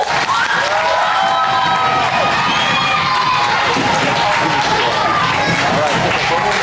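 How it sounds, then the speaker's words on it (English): A crowd at a summer camp graduation applauds and cheers, with children shouting amid dense, steady clapping that stays loud throughout. "So let's give them applause."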